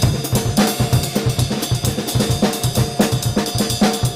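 A Brazilian samba groove with a fast, busy, syncopated pulse of percussive hits over a low repeating bass figure, dense and steady at a moderate level throughout.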